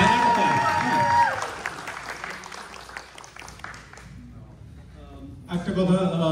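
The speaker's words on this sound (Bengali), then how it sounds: "8B জন্য একটা হাততালি হয়ে যায় বড় করে" An audience at a live event with a DJ breaks into dense applause after a musical phrase. The clapping mixes with a voice talking and fades, then a brief swell of sound closes the clip.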